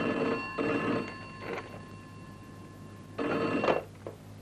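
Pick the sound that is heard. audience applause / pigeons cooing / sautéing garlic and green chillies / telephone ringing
telephone ringing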